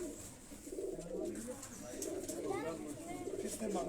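Kasuri and Lahori pigeons of a home-bred line coo softly and continuously, the low rolling calls sitting under a man's speech and ambient noise, fairly faint overall.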